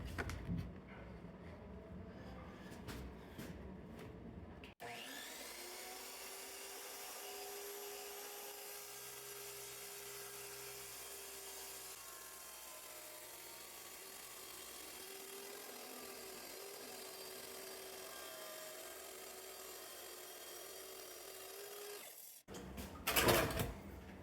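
A RIDGID 10-inch wet saw makes a 24-inch rip cut, with a steady whining motor and grinding cut that runs continuously for about seventeen seconds, framed by brief clatter before and after.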